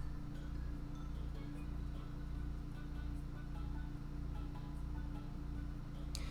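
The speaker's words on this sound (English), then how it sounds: "I'm sorry if you can hear that motor in the background" A neighbour's motor, running for grass work, drones steadily in the background, a low continuous hum that holds without a break.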